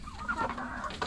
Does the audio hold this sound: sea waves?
no